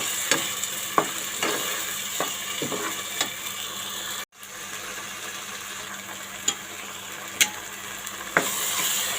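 Tomato and okra sizzle steadily in a hot pan for a Kerala-style ladies' finger curry, with a constant crackling hiss broken by sharp scrapes and clinks of a spoon stirring, briefly cut near the middle.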